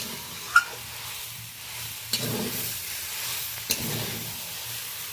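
A curry of greens, potato, eggplant and shrimp sizzling quietly in a pan under a soft steady hiss, with three brief scraping knocks of a stirring utensil spaced through it.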